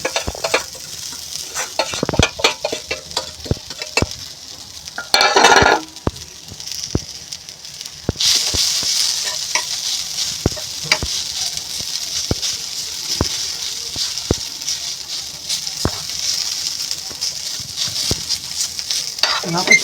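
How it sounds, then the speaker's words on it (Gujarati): Stuffing for Raja Rani paratha cooks in a pan, sizzling steadily while a spatula scrapes and clicks against the pan in repeated, irregular strokes, with a brief louder hiss midway and no talking. "સ્ટફિંગને ચડવવાનું છે થોડુંક,"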